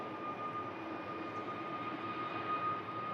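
A Jet2 Boeing 757 departs Manchester Airport, its engines a steady, broad roar with a faint whine, heard from a distance and fairly quiet.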